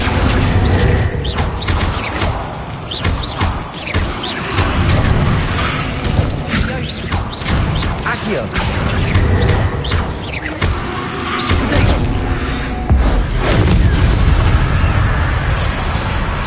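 Bombarda blasting spells in Hogwarts Legacy go off as a rapid run of loud, booming explosions and crackling bursts. The blasts repeat through a chaotic battle din with almost no gaps.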